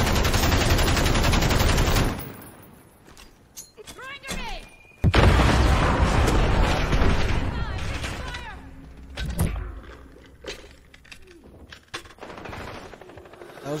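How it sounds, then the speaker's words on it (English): A grenade blast in an online first-person shooter, loud and close, cutting off sustained automatic gunfire; scattered shots and bursts follow, with a voice talking over the fighting. "Contact. Six. Throwing grenade!"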